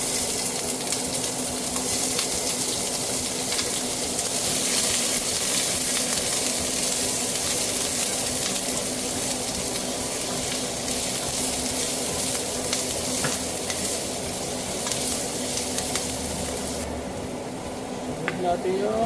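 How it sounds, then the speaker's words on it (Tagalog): Garlic, ginger and other ingredients sautéing in a pan for ginataang langka with pork and shrimp, a steady broad sizzle and frying hiss running throughout with light stirring, a voice talking over it. "igisa na natin yung mga ibang ingredients."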